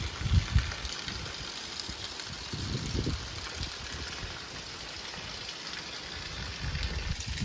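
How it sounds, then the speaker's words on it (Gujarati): Heavy rain pours down in a steady, unbroken wash of hiss, with a low rumble beneath that rises and falls a little throughout. "વરસાદ ફૂલ પડવા માંડ્યો છે એક ધારો જામી પડ્યો છે"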